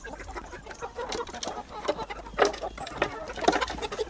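Plucker x Aseel chickens on a range cluck intermittently in short bursts, with scattered nearby clucks and rustling over quiet outdoor background.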